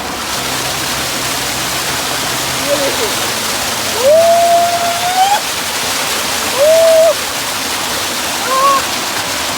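Water rushes steadily at Juna Pani waterfall, a loud broadband roar that fills the scene throughout, with someone speaking briefly over it.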